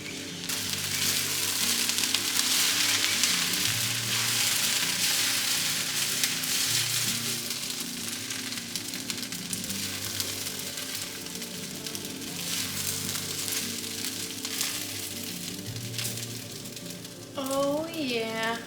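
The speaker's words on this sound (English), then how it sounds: "we'll just let it cook for another 2 or 3 minutes and get good and brown and crispy on the bottom once again" An oil-free vegan pancake cooking in a pan, giving a steady soft sizzle that runs throughout, close and even, with a person talking over it and a brief voice near the end.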